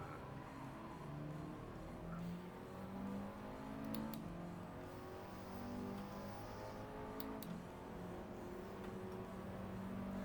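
Alpine race car in Gran Turismo, stock with zero miles, engine droning steadily and close throughout with layered harmonic tones, shifting pitch slightly as it drives among other cars, no talk.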